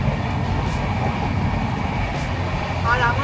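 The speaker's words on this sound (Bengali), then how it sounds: "ট্রেন এখন ফুল দমে যাচ্ছে, এই দেখুন।" An express passenger train runs at full speed out of Howrah, heard from inside an air-conditioned coach as a loud, continuous rumble and rattle of wheels on track that runs steadily throughout.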